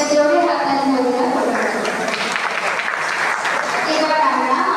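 A convocation ceremony crowd applauds the principal after his speech: dense, loud clapping held steady for several seconds, with voices and tonal sound running over it.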